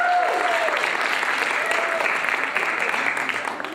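Steady audience applause at a Longmont League Conference, thanking a participant who was called up on stage. A dense wash of many hands lasts throughout and fades slightly at the end, with a voice briefly heard over it near the start.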